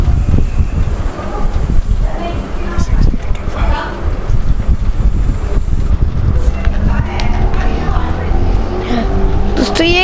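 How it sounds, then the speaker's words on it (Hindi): Motorbike engine droning in the video game Killzone Shadow Fall, a steady loud mechanical roar running throughout with clattering game sounds and a voice talking over it. "कोई मोटर बाइक की आवाज आ रही है"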